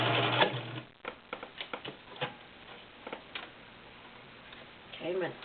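A Husqvarna Viking Selectronic 6570 sewing machine stitching straight and zigzag runs in short bursts of quick, close ticking and rattling, followed by a quieter stretch and a brief whirring at the end.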